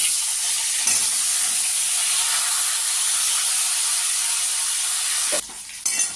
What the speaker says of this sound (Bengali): তেল আমার গরম হয়ে গেছে এবার আমি শুকনো লঙ্কা জিরা ফোড়ন দিয়ে নেড়ে চেড়ে আলুটা ছেড়ে দিলাম